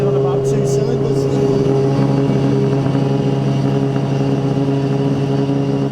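A 635 bhp Nissan Silvia S15 drift car engine idles roughly and misfires, as if firing on only a couple of cylinders, making a loud, steady, uneven drone close by, with voices talking over it.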